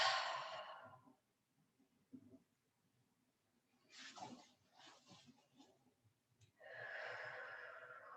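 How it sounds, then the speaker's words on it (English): Slow, deep breaths during a guided meditation: long airy exhales near the microphone, separated by quiet pauses, with soft breath noise in between. "closing your eyes and starting to take some deep breaths"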